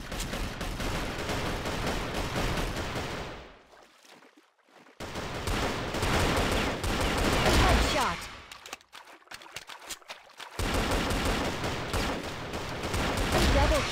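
Rapid gunfire from the shooter game Crossfire West in a free-for-all match, with a Colt 1911 pistol among the weapons: loud bursts of shots in dense runs, broken by two short near-silent gaps, then more sustained firing.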